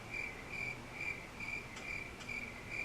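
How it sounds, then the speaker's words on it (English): Crickets chirping in steady, evenly spaced pulses, a quiet and clean insect trill with no other sounds. "Cue the crickets."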